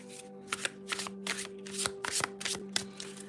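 Mermaid tarot cards are shuffled close up, a series of quick papery riffles and soft slaps in bursts with short pauses between them.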